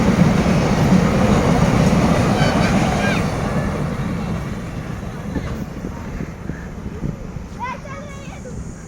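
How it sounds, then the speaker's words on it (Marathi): A train rolls through Chikhale railway station at sunset, a sustained low rumble and clatter of wagons that slowly fades, with people talking nearby and a brief squeal near the end. "बघा ती ट्रेन चिखले स्टेशनवरून गेलेली आहे ना"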